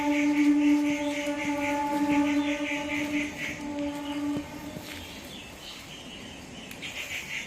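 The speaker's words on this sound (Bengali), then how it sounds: "একদম তাজা ট্রেন যাচ্ছে গাইস" A train passes, a sustained horn-like tone with steady harmonics sounding over an outdoor rumble for about four seconds before fading, leaving faint background noise and birds.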